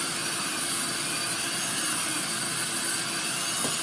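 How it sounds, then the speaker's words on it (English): A Dremel with a sanding drum grinds around a small wooden Santa carving, giving a steady, close, high-pitched whirring hiss that holds unbroken throughout with no talking. "I'm going around the whole carving with just a sanding drum"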